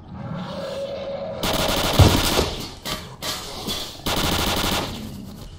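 Automatic gunfire from a weapon in a first-person shooter, played in an underground level of the Agroprom complex: several loud sustained bursts with a sharp blast in between, alone with no voices.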